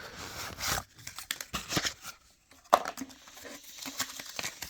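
Paper wrapping crinkling and tearing close by while a small box holding a lock-pick decoder tool is unpacked, irregular rustling bursts with brief quiet gaps.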